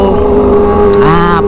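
Engine and exhaust of a Kawasaki ZX25R motorcycle, heard up close as a loud, sustained tonal drone that climbs sharply in pitch near the end as the throttle opens.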